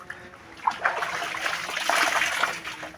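Clean water poured from a container for cooking coconut rice, a soft, continuous trickling stream with light splashing that swells slightly midway, close and alone without talk.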